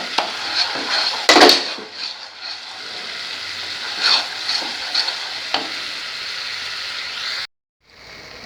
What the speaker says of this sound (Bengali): গ্রেভিটা আমার ফুটে উঠেছে